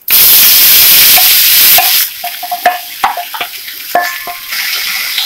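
Boiled cluster beans hit a hot pan of tempered curry leaves and asafoetida with a loud hiss, and the sizzle then settles into quieter stirring scrapes and clinks of a spoon, without speech.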